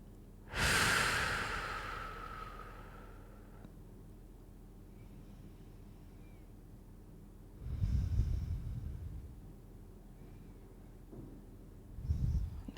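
Slow, deep breaths during a yin yoga class: one long, loud inhale and exhale near the start, then two softer breaths later, close and alone against a quiet room.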